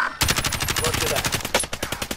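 Rapid automatic gunfire rattles in quick, steady bursts during a Call of Duty Warzone match, loud and close, with a brief pause near the end before the firing starts again.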